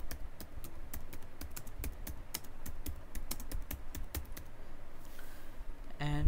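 Rapid keystrokes on a computer keyboard while text is entered in the nano editor on Ubuntu, a quick irregular run of sharp clicks that stops near the end, leaving a brief soft rustle.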